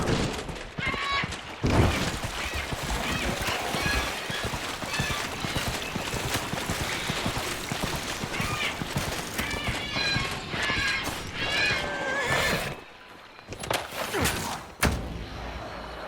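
Horse noises from the video game Dragon Age Inquisition, with neighing and clattering hooves sounding steadily and fairly loud through a busy game soundscape, followed by a brief quiet spell and a few sharp thuds.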